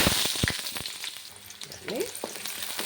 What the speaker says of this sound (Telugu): వేగుతా ఉందండి